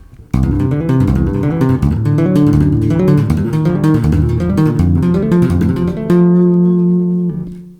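Bass guitar notes tapped out rapidly with both hands, a dense, flowing run of overlapping notes ending on a few sustained ringing tones.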